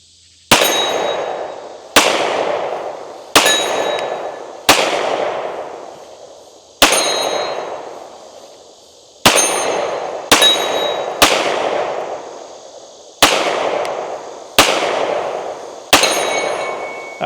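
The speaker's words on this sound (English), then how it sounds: "We're gonna shoot these far targets." Springfield XD Mod 3 pistol fired at distant 8-inch steel targets outdoors: eleven sharp, loud shots at irregular intervals, each followed by a ringing metallic clang and a decaying echo.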